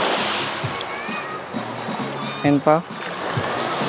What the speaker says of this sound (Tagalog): Tayo sa dagat pare. Oh, lakas ng tubig par.